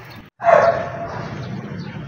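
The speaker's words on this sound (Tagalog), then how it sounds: "May aso." A dog barks once sharply and close by beside a roadside stop on a bike ride, followed by a steady background hum.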